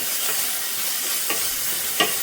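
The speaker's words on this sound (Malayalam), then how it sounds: "ഇതിലേക്ക് ജിഞ്ചർ ഗാർലിക് പേസ്റ്റ് ഇട്ട് കൊടുക്കാം. നല്ലതുപോലെ മിക്സ് ചെയ്യാം." Ginger garlic paste sizzles steadily in a frying pan as a spoon stirs it, the hiss constant and fairly loud with a couple of distinct scraping strokes.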